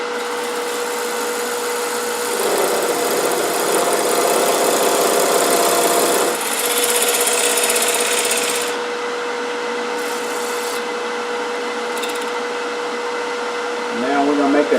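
Wood lathe spinning at a raised speed while a tool eases in to turn a round tenon, a steady loud motor whir with a rougher hissing cut that swells and fades as the tool engages, close with no speech.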